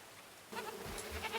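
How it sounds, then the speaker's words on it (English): A goat bleats in the medieval colony-building video game Going Medieval, a short nasal call that starts partway in over a low, steady game ambience. "Is that goat stuck in the fence?"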